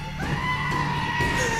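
A goat in a video game gives one drawn-out, wavering bleat that sounds like a yell. It is moderately loud and close, with no speech over it.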